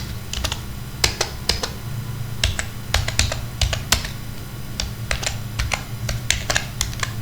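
Steady clicking of keys on a computer keyboard while code is typed, with irregular close taps over a low background hum.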